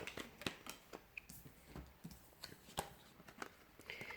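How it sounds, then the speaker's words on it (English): Tarot cards shuffled quietly by hand, a string of soft, close, irregular flicks and taps spread evenly over a few seconds, alone without talk. "So we'll give the cards a shuffle and see what's coming up."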